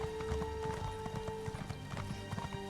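Horse hooves clip-clop in a steady trotting rhythm in the video game ESO Morrowind, close and moderately loud over a constant low ambient hum.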